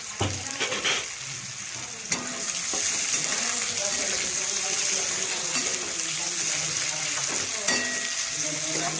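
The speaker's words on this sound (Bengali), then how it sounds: "এরপর কেটে রাখা পেঁয়াজগুলো দিয়ে খুব ভালোভাবে ভাজবো।" Chopped onions fry in hot oil seasoned with panch phoron and dried red chillies, a strong continuous sizzle that swells after a few early stirring clatters and stays loud to the end.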